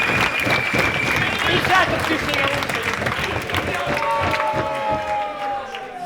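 Wrestling crowd at a live independent pro wrestling show cheering and clapping steadily, a continuous roar of voices with scattered whistles, while a commentator talks over it.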